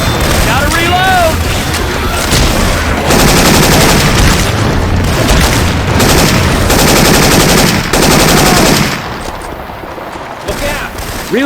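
Rapid automatic gunfire in Left 4 Dead 2 with swapped-in Syphon Filter weapon sounds, loud continuous bursts and booming shots, with short pauses and shouted voices over the firing before a quieter tail.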